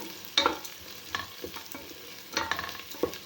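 Onion and garlic frying in a pan for brinjal rice, with a spatula scraping and stirring in scattered bursts over a soft, steady sizzle. The sound is close and fairly quiet, with no talking.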